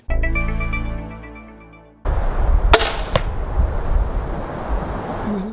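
A ringing tone fades, then a sharp whoosh of a crossbow-fired Helakill 100-grain broadhead arrow in flight ends in a hard thwack on the target, followed by a loud outdoor wind rumble.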